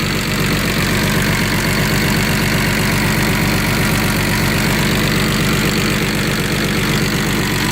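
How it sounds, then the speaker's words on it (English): A loud, steady engine of a 1960 Jaguar idles right up close, a continuous rough drone with no pauses. "Engine sounds nice"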